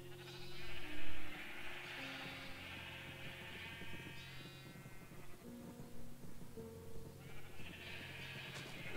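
Blocky sheep in a Minecraft-style game bleat repeatedly in wavering, nasal calls, several overlapping at moderate loudness over a low steady hum, with no talk.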